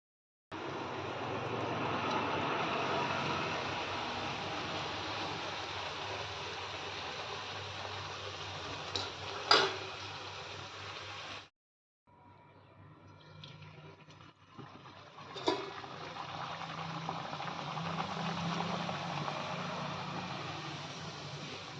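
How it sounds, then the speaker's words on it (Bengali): Luchi fry in hot oil in a wok, giving a steady broadband hiss that breaks off briefly near the middle and then resumes, with a couple of faint clinks and no talking. "আগে ভাবলাম কড়াইটার মধ্যে তেলে আগে লুচিগুলো বানিয়ে নিই"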